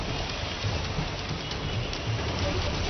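Heavy monsoon rain pours steadily in Mumbai, a dense, even hiss that holds without break from start to end, with no voices over it.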